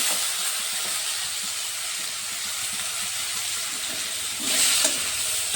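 Washed and drained moong dal frying in a pan for a bottle gourd ghonto, a steady broad sizzle with a brief louder burst of scraping and crackle near the end, with no talking.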